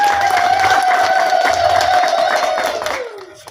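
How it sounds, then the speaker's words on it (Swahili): A crowd at a church groundbreaking ceremony at Holy Trinity Catholic Church, Kipsongo, claps and cheers loudly for the bishop, with a sustained high ululating cry over the applause that fades out at the end. "Tuweze kumpigia makofi."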